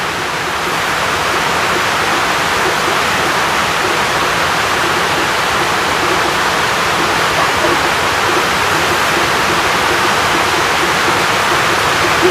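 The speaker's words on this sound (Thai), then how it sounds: "ฝนตก" Heavy rain pours down in a dense, loud, unbroken hiss, steady throughout with no pauses or voices.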